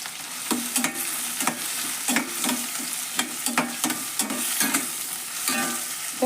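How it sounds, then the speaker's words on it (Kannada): Turmeric powder sizzles and fries in oil in a pan with green chillies, for a Kannada cabbage and capsicum palya, while a spoon stirs and scrapes with regular clicks over the steady crackle. "ಫ್ರೈ ಆಗಲಿ ರೀ"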